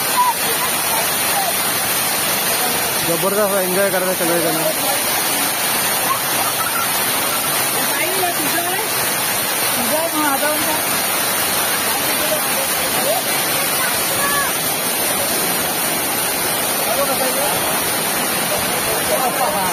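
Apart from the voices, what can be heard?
rain-fed waterfall pouring water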